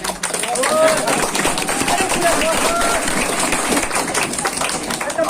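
An audience clapping at a Physics Wallah motivational talk: a dense, steady wash of many hands that holds for several seconds, with a voice speaking over it.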